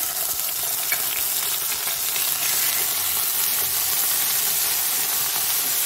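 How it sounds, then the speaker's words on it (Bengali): Grated coconut fries in hot oil in a pan with a loud, continuous, close sizzle and hiss. Faint stirring scrapes run underneath, and no one speaks. "নারকেলটা আগে ভেজে নিচ্ছি।"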